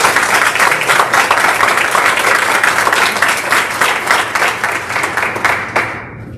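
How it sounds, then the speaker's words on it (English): Loud, sustained applause from a crowd at a board meeting, dense clapping throughout that thins and fades out at the end. "One more round of applause, please."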